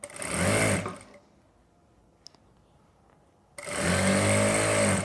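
An electric sewing machine stitches palazzo pants in two bursts of steady, fast whirring, with a quiet pause and a single small click between them.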